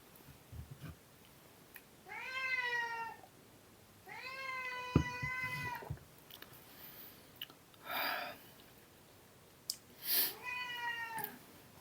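A cat meows repeatedly at close range, with long drawn-out calls and shorter chirps separated by pauses, accompanied by faint rustling and breathing between calls.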